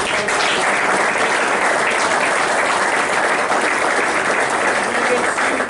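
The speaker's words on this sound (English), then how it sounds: "how about one more round of applause for our judges?" An event audience gives a round of applause for the judges, a dense, even wash of clapping that holds steady and fairly loud for several seconds without pause.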